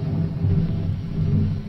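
AI-generated thunder with pouring rain: a continuous deep rumble swelling and easing over a dense hiss of downpour, steady and loud throughout with no voices.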